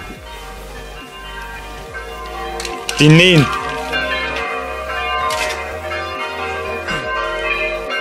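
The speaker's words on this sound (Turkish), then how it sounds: "böyle çanı duyuyorsunuz" A church bell rings out clearly once amid a noisy outdoor background, with a person speaking briefly nearby.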